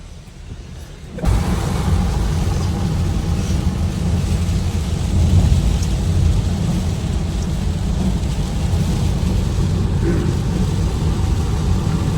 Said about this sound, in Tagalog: ulan ng ulan, ang lakas ng ulan